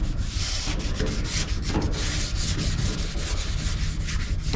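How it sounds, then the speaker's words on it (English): Worn sandpaper on a firm block rubs steadily into a crevice on a surface sprayed with silver metallic Rust-oleum paint, giving a continuous close, scratchy back-and-forth rasp with no pauses. "Got a little sharper edge, even though the sandpaper is about used up. So let's get that edge in there."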